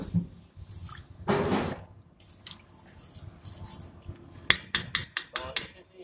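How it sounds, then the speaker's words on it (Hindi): Water is poured into rava dosa batter in brief splashy bursts, and utensils clink and scrape against the bowl. A quick series of soft wet drips and taps follows near the end, all close and fairly quiet. "इसमें पानी डालेंगे इस तरीके से, इतना हमने पानी ले लिया।"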